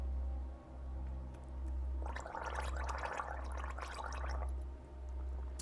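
A man gargling water in his throat, a wet rattling burst lasting about two and a half seconds, close and moderately loud, set against a steady low hum.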